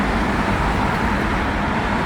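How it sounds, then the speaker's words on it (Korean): Dense, loud roar of cars and heavy vehicles streaming past beside a motorway, a continuous unbroken wash of road noise heard up close with no voices. "극한의 소음 상황 자동차 전용 도로 옆에서 한번 테스트를 해보도록 하겠습니다"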